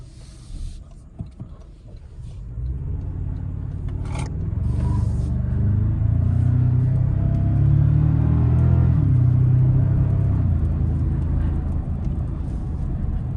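A 2024 Toyota Tacoma TRD Sport Hybrid with a turbocharged engine and electric motor accelerates, its engine rising into a loud, steady, deep rumble that swells and holds for several seconds, heard from inside without talking.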